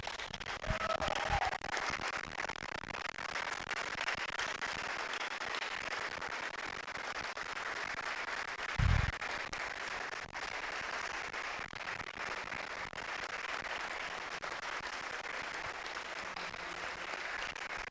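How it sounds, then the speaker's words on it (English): Sustained applause from an audience honoring panel members, a steady crowd clapping throughout with one brief louder thump near the middle. "as long as you're applauding, let's go crazy for Wendy and her team of people that brought us together"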